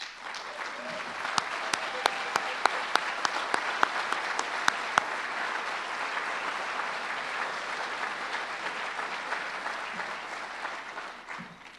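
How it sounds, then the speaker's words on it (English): Sustained applause from a large crowd, dense clapping that stays steady and loud before tapering off at the very end. "please stand up and for a round of applause"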